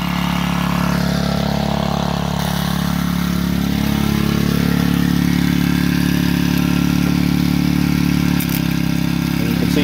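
A gas-engine alternator generator runs steadily nearby while charging a 12V battery, a constant droning engine hum with a slight shift in tone near the end.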